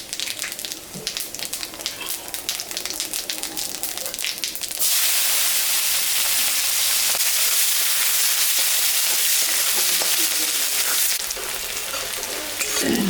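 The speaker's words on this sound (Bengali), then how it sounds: "মাছ ভাজা তেলের উপরে আর একটু তেল আমি দিলাম, শুকনো লঙ্কা জিরা সম্বরা দিয়ে দিলাম" Dry red chillies and cumin seeds are tempered in hot mustard oil left over from frying rohu fish. A loud, steady sizzle bursts in about five seconds in, holds strongly, then eases slightly near the end. No one speaks.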